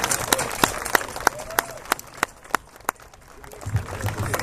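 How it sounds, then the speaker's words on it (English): Sparse, scattered claps from an outdoor Relay for Life opening ceremony audience, a dozen or so distinct hand claps spread unevenly over a few seconds, fairly close, with faint voices and background murmur underneath. "please join us in giving them a round of applause."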